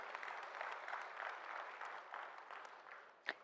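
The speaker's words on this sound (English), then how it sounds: "Can we all give one more round of applause for Dr. Sridhar Vembu for this inspiring perspective?" A convention audience applauds a speaker, a faint, even patter of many hands from a distance that holds steady, ending with one sharper knock or clap near the close.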